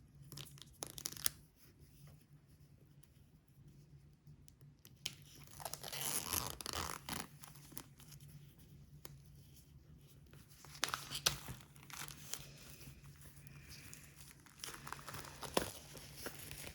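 A DVD collector's box set is unwrapped up close. Plastic film crinkles and tears in irregular bursts with brief quiet gaps, all soft and intimate against low background hum, with no talking.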